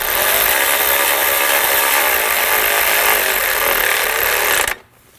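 A power tool whirs loudly and steadily while driving a bracket screw tight on a 2007-2013 BMW 328i 3.0L inline-six, running close for several seconds before stopping abruptly.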